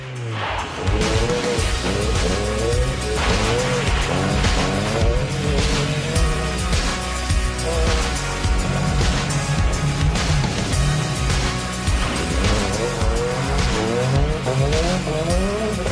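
A rally car driven fast on a gravel road, engine revving and rising and falling through gear changes with squealing, skidding tires, loud and continuous throughout.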